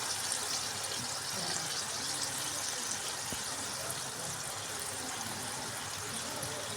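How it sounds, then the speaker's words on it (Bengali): Paneer cubes fry in hot oil to a reddish color for an Afghani paneer dish, giving a steady, even sizzle that holds at a constant level with no break. "তো পনিরগুলোকে আমি এর মধ্যে দিয়ে একটু লাল লাল কালার করে ভেজে নেব"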